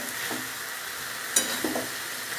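Lentil dumplings (bori) and green chillies fry in a spinach vegetable curry whose water has cooked off, a steady soft sizzle with a few brief stirring scrapes and taps, close and alone.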